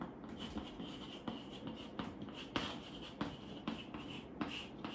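Pen or chalk strokes scratch out a cross product of vectors during a math lesson, a quiet, close series of short scraping marks in an irregular rhythm of roughly two strokes per second, with no talking.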